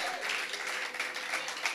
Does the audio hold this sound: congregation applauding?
yes